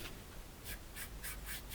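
Soft, rhythmic rubbing strokes, about five repeated swishes of tissue paper rubbing acrylic paint across a surface, quiet and close with no talking.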